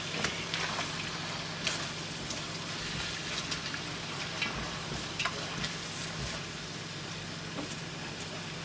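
Chickpeas are stirred into spiced spinach pulao frying in a pot, a soft continuous sizzle with scattered scraping and light ticking, fairly quiet and close, with no talk.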